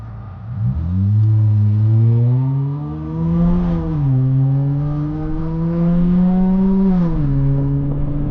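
A Dodge Charger's engine revs up and settles in several smooth swells, a deep throaty drone rising and falling in pitch, close and loud with no one talking.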